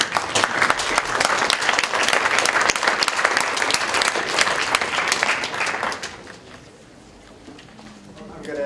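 Audience at a government healthcare debate applauding, loud dense clapping for about six seconds before it fades to quieter room noise with a voice beginning to speak.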